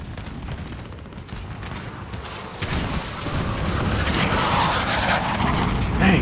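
An enemy VTOL aircraft roars overhead in a Call of Duty: Modern Warfare Ground War match, its engine rising steadily louder amid rumbling explosions and battle noise.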